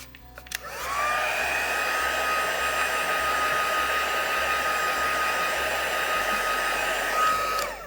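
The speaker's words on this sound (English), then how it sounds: "I'm just going to give her a light going over with our heat gun, just to make sure she's really dry." A heat gun blows over a watercoloured card to dry it, switching on with a rising whine and then holding a steady, close, loud whir for several seconds before cutting off, with no talk.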